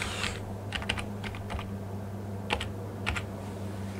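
Soft keyboard typing with a handful of short keystroke clusters spaced apart, quiet over a constant low electrical hum, with no talking.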